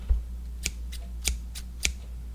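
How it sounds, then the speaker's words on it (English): Scissors from a pink 75-piece hand tool set snip open and shut four or five times in a steady rhythm, each crisp metallic click close and distinct over a low background hum. "Scissors."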